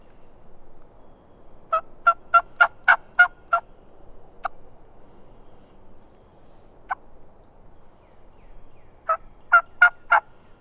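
An imitated contented yelp of a turkey hen: a quick run of six sharp, close yelps, two isolated single notes, then a final burst of four, each crisp and clean over quiet surroundings.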